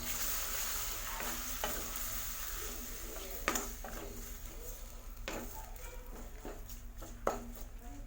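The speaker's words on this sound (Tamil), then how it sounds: "தக்காளி பேஸ்ட்டை நல்லா வதக்கி விட்டுருங்க." Tomato paste sizzles and sputters steadily in a pan for fish curry while a utensil stirs and scrapes, with occasional sharper knocks against the pan.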